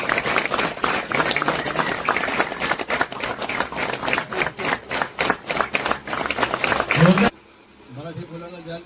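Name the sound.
audience applause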